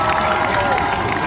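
Festival audience at a Japan Tours Festival cosplay contest parade cheering and clapping for a Jiminy Cricket cosplayer, a dense sustained burst of crowd noise and applause filling a large hall.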